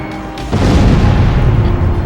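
A loud, close explosion from anti-aircraft guns being destroyed in the combat flight game Ace Combat Zero, a sudden booming burst that rolls into a sustained rumbling roar.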